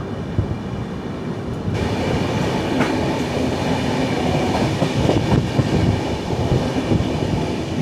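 A train runs near Kayamkulam station in Kerala, a loud, close, continuous rumble with rhythmic wheel clatter that grows heavier after the first two seconds, with no voices.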